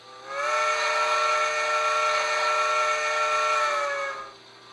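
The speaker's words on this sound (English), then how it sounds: "Whistle." A Bachmann Spectrum Pennsylvania Railroad 2-6-0 model steam locomotive's sound system blows a sustained steam whistle for about four seconds, a steady chord with a breathy hiss, loud and alone.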